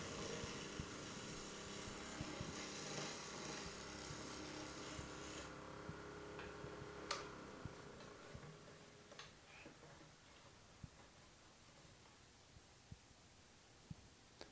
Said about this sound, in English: I'm just going to come across it and clean it up with a skew